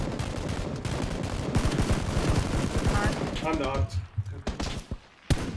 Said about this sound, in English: I don't know where the shots came from.